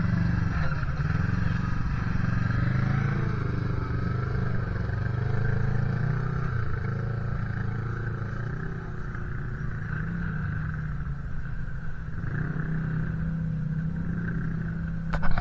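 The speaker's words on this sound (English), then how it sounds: "We got Steve and his Kawasaki here." A Kawasaki off-road vehicle driving on sand at Sand Hollow gives a continuous close engine drone whose pitch rises and falls as it revs, with no talk over it.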